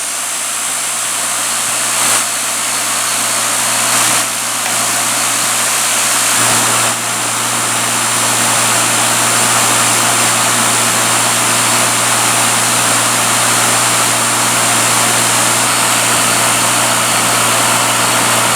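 An Econo Floss cotton candy machine under repair, running with its motor switched on: a loud, steady, unbroken mechanical hum and whir that holds level throughout, with no talking.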